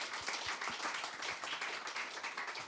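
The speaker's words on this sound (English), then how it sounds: "you deserve applause" An audience applauds at a World Heart Federation session, many people clapping in a steady, fairly quiet patter with a few distinct claps near the start.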